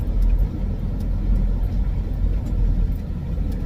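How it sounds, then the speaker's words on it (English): A big dump truck approaches at a construction site, its low engine rumble steady and loud throughout. "Got a big dump truck coming."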